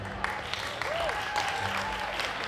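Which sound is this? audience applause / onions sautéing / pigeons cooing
audience applause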